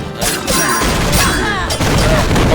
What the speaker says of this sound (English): Oh god, explosion barrels.